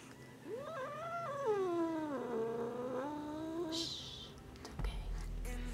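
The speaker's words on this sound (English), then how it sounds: "She is a Russian blue." A Russian Blue cat lets out a long, drawn-out yowling meow with wavering pitch, close and fairly loud, ending in a short higher squeak and some handling noise.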